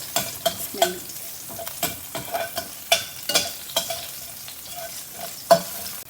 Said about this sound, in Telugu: సో గార్లిక్ ఫ్రై అయిపోయింది కదా